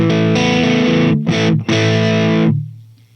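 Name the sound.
overdriven guitar amplifier tone from natural drive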